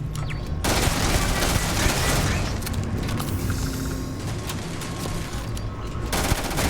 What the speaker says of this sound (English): Pulls out the Maelstrom, probably the weakest assault rifle in my arsenal.